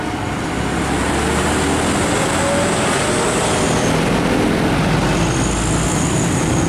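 A UD Quester GWE 280 trailer truck passes on a busy road, a loud, steady engine and tire roar amid dense traffic noise, close by, with no talking.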